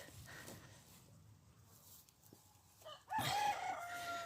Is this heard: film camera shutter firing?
no